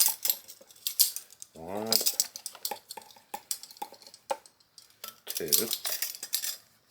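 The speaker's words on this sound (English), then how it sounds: "Alright, so now we're going to put 2 tablespoons of chili powder in there." A metal spoon scooping chili powder into a cast iron Dutch oven, a series of light clinks and scrapes against the pot, under a man counting aloud.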